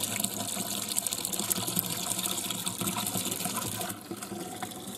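Apple juice streams steadily from a cider press into a container, a continuous close gushing pour that eases slightly near the end, heard alone without talk.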